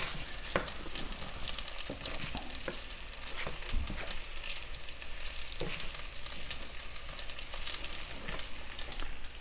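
Potatoes frying in a hot pan while being stirred, a continuous crackling sizzle broken by repeated scrapes and knocks of a utensil against the pan, nearby and with no one speaking.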